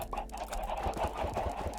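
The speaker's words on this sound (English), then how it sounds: "More chickens from my chicken jacuzzi." Minecraft chickens cluck steadily in a game world, a dense cluster of soft overlapping clucks and bird calls with no one talking.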